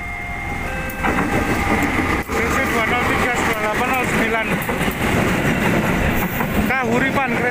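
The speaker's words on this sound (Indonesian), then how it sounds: "Kereta api Kahuripan Kiara Condong Blitar." The Kahuripan passenger train from Kiaracondong to Blitar rumbles past a level crossing near Yogyakarta International Airport, with loud continuous rail noise and wheel clatter, and voices talking over it.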